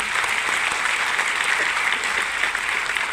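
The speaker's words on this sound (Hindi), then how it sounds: "मैं एक बार सर के लिए जोरदार तालियां चाहूंगी" An audience at a Vestige event claps loudly and steadily for a speaker, a dense continuous wash of applause filling the whole clip with no talking over it.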